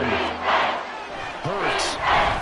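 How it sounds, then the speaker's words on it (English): Roaring football stadium crowd at an Eagles NFL game, swelling in loud waves of cheering and shouting with a voice briefly cutting through in the middle. "This crowd is making an impact right now."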